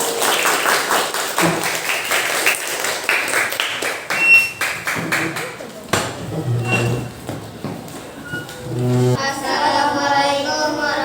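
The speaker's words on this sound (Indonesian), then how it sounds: "Beri tepuk tangan untuk kelompok Doraemon" A fourth-grade class claps for a classroom group, producing sharp, uneven claps for about five seconds before the applause fades and children begin speaking.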